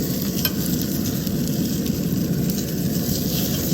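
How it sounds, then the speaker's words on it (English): Loud, steady sizzling and crackling of boneless ribeye searing in a hot cast iron pan, close up and continuous with no voices. "There's a sizzle, oh man."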